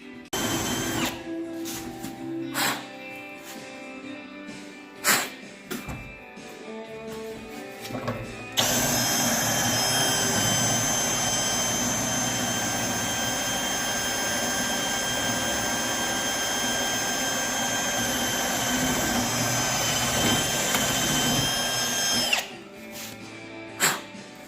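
A power drill runs nonstop for about fourteen seconds, boring out the trunk lock of a 1967 Buick Skylark. It sounds loud and close, a high whine, with clicks and knocks from handling before and after.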